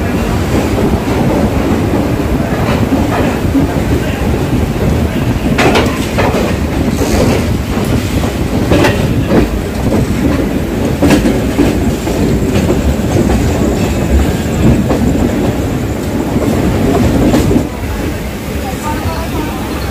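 Passenger train running just after leaving Guntakal station, a loud continuous rumble with rhythmic clickety-clack of wheels over rail joints and occasional metallic squeals, heard from on board.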